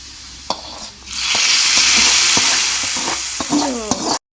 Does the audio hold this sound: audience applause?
no